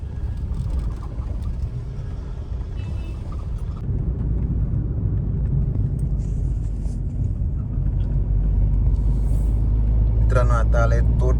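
A car cruising on the Mumbai-Goa highway near Kalamboli junction, a steady low engine and road rumble running throughout with faint passing-traffic noise and a brief rattle near the end.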